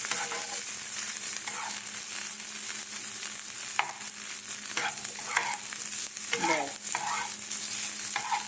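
Potatoes and spices frying in a pan with coriander powder just added, a loud continuous sizzle broken by repeated scraping strokes of a spatula stirring close by.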